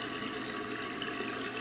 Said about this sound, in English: get a little water on my hand and slowly just rinse the brush out